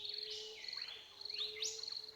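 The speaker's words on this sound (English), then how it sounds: "As the birdsong begins" Birdsong of bright, high warbling chirps and trills in two quick bursts over a continuous thin insect-like buzz and a steady low hum, with no voices.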